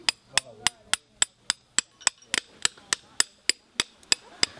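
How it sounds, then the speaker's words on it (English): Steel chisel struck repeatedly with a hammer while cutting modern cement limestone blocks for reconstructed steps at a medieval restoration site in France, giving about fifteen sharp, evenly spaced ringing blows, close and loud with no talk. "We're cutting some limestone blocks, in this case modern cement limestone blocks, into what will be the reconstructed steps"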